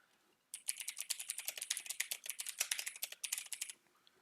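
Text being typed on a computer keyboard: a rapid, continuous run of crisp key clicks lasting about three seconds after a short quiet start, close and fairly soft, no speech.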